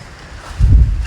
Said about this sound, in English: I think we got maybe a few more hours of wind like this before it starts to die down.